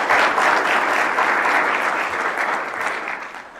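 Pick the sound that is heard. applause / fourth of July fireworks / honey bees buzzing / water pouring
applause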